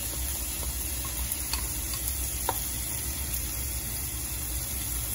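Onions sautéing in olive oil in a hot pan: a faint, even sizzle with occasional light ticks and clicks of a utensil, heard steadily over a constant low background hum.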